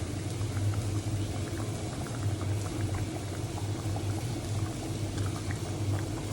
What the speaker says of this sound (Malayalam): ഇതൊരു 10 മിനിറ്റ് മൂടി വെച്ച് തിളപ്പിക്കും.